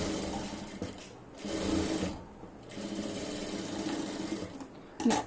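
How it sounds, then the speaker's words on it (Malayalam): A sewing machine stitches down the shoulder and back neck seam of a churidar, running in several steady bursts separated by brief pauses, close and fairly loud, with no talking. "അപ്പൊ ഞാനൊന്ന് പതിച്ച് അടിക്കുവാണ്."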